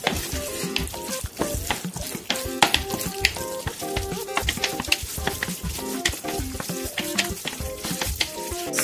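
Canned tuna sizzles and fries in a pan with steady crackling while utensils stir and scrape through it, fairly close and continuous throughout.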